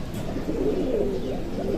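A pigeon coos close by in a soft, low, rolling call that carries on over steady background noise, with no talking.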